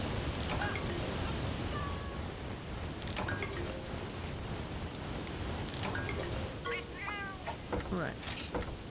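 Cat meowing in Monster Hunter Stories amid a constant roar of waterfall, with short mewing calls rising near the end over the steady rushing water; a voice speaks faintly underneath.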